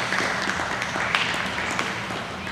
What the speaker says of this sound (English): let's give them a good hand of applause for all the young cows we saw this afternoon